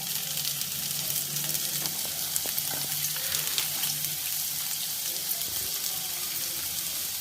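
Onions fry in a pan for gobi manchurian, giving a steady, bright crackling sizzle with a few faint knocks of a spoon, close and continuous.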